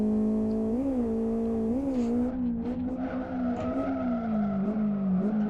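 A car drifts in a drift simulator video game: a loud, sustained engine drone with wavering revs and tire squeal rising and falling as it slides, continuous and close.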